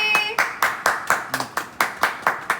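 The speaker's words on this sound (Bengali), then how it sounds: "হাততালি হাততালি হাততালি হাততালি" Distinct hand claps ring out one at a time in a steady rhythm, about ten sharp claps, close and loud, at a family anniversary surprise at home. Brief voices are faintly mixed in.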